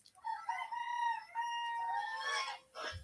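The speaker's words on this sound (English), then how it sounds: "he makes the tiniest, most adorable little crow" A small rooster lets out a thin, high-pitched crow, one drawn-out call close by, followed by a brief soft cluck.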